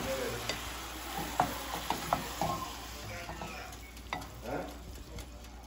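Mushrooms cooking covered in a pan, giving a soft continuous sizzle broken by scattered light pops and a few stirring scrapes, fairly quiet and close.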